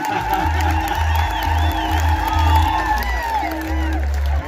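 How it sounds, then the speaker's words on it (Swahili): An audience welcomes a choir with cheering, whoops and clapping. Under the crowd noise runs a pulsing low rhythmic beat. "Sasa situmkaribishe kwa makofi ili kwaya"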